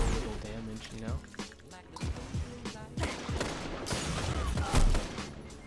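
Rapid pulse rifle bursts from Destiny 2 PVP combat, several quick volleys of gunfire in a busy game mix with someone talking over them throughout.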